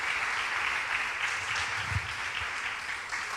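A church congregation at a family worship service claps together in a steady, sustained burst of applause that fills the room at moderate volume.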